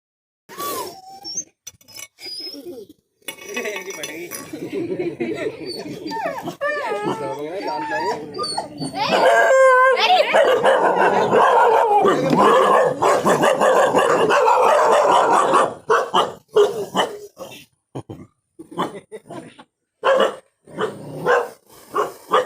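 Dogs in a village whimper, whine and bark at a snake, with yelps and howl-like cries coming in bursts while people talk over them.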